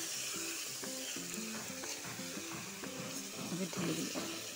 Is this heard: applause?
no